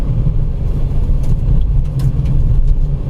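A car's windshield defogger blower runs at high speed inside the cabin during a foggy night drive through the dense forests of Jim Corbett National Park. It makes a loud, steady low roar over engine rumble, with no talking.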